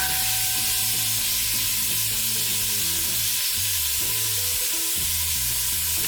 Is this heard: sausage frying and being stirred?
yes